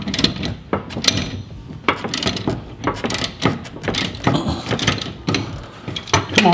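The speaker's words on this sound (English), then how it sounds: "we're going to get this main bolt here that holds the strut assembly into the wheel carrier" A ratchet works loose a stubborn strut bolt on a Porsche Cayenne Turbo S wheel carrier, with rapid, uneven clicking bursts and metallic rattles close up.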